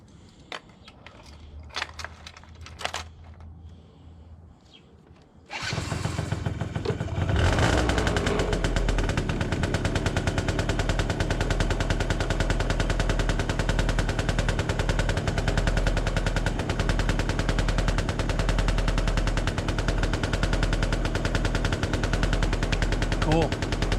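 A 2008 CPI GTR 50 scooter engine fires up after a few faint clicks and knocks, then idles and runs steadily at close range with a loud, continuous rattling buzz.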